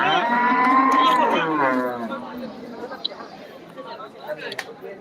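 Beef cattle at a live cattle market moo in one long, loud, close call, followed by crowd chatter and scattered market noise in the background.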